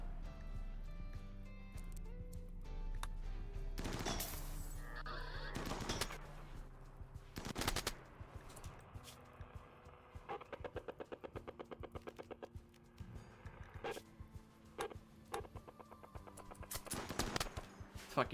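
A minigun firing armor-piercing high-explosive rounds in the Rimworld video game: several rapid rattling bursts of game gunfire, some long and some short, over a low steady background hum, with no talking.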